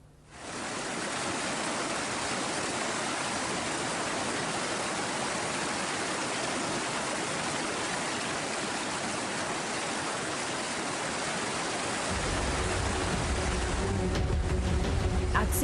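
Rushing flash flood of cold lahar from Mount Semeru tearing down a river in Lumajang, a loud, continuous, broad roar of churning water and debris that holds steady throughout and swells slightly near the end.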